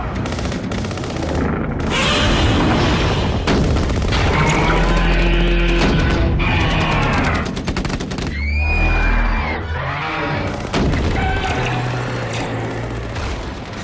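Loud, dense film battle sequence with continuous gunfire bursts and booming explosions filling the whole stretch, layered over a dramatic score, with no clear talk.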